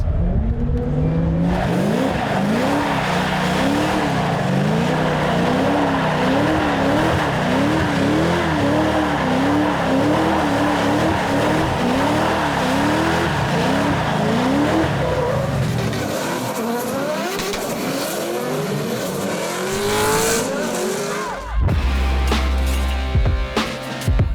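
Riding along in a Nissan GT-R, the engine revs up and down in rapid cycles through hard cornering, with tire squeal and skidding layered over the loud, close drivetrain noise.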